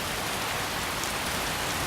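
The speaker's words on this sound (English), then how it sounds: "We have rain falling that leaves splatters on the ground" Steady rain falls in modded Skyrim, splattering on the ground as a loud, unbroken hiss of dense patter with no gaps.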